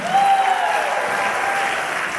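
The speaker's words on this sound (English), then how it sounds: "can everyone applaud for Charlene?" An audience at a Bhangra performance's closing ceremony applauds in a steady, dense wash of clapping throughout, with no speech over it.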